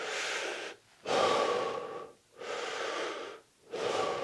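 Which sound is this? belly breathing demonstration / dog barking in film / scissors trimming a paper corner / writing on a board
belly breathing demonstration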